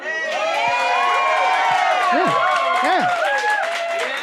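Audience cheering and whooping at a live comedy show, a loud, continuous crowd roar with shouts rising over it and a voice calling out briefly.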